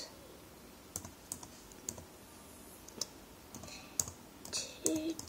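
Typing on a computer keyboard while entering a new name and password for a game account, a sparse series of separate soft clicks and keystrokes at close range, with no talk.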